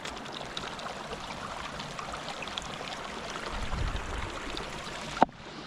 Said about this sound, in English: See the river or the stream?